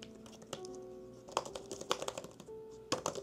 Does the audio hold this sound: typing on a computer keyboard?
yes